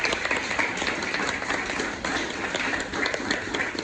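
An audience gives the panelists a round of applause, a dense, even burst of many hands clapping, close and continuous with no talking over it.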